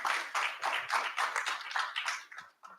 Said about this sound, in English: I think that does deserve a round of applause.